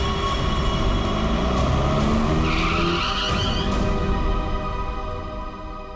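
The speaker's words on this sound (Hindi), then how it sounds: "बीच सड़क में गाड़ी क्यों रोक दी?" A car skids to a sudden halt in the middle of a road, a sustained rushing roar with a squealing tire screech partway through that fades out toward the end, with no voices.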